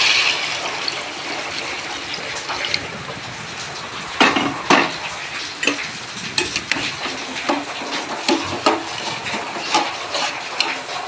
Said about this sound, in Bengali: এরপর আগে থেকে গরম করে রাখা পরিমাণ মতো জল দিয়ে দেব।